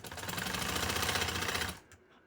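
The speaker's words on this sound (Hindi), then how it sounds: "इसके किनारे किनारे में सिलाई लेके आनी" Sewing machine stitching lace along the V-neck edge of a shirt, a fast steady mechanical whir with rapid needle rhythm, close and loud, running for almost two seconds before stopping abruptly.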